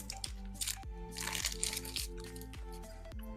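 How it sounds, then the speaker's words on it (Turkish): Crunchy Montenegrin snacks are chewed close to the mic, giving repeated crisp crunches and crackles in an irregular rhythm, with no talking. "Ağzımızın çiğnerken sesi çıkmıyordur inşallah mikrofondan"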